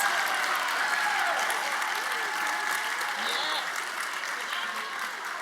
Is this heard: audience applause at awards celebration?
yes